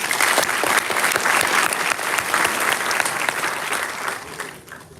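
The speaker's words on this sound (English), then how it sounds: "So a big clap" Loud, sustained applause from a large crowd, dense clapping that keeps going before tapering off slightly at the end.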